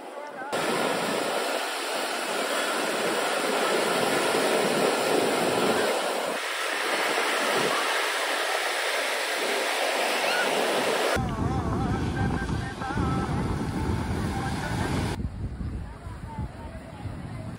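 Steady broadband roar of ocean surf rolling onto the sand at Negombo, Sri Lanka, with the city behind the beach, loud and continuous with wind buffeting the microphone throughout.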